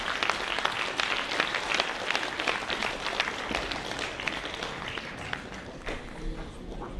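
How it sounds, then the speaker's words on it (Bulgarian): Steady, dense audience applause fills a gala folk concert hall for the dance ensemble Rosna Kitka, loud and continuous throughout with a few sharper individual claps near the end. "Аплодисменти, Росна китка!"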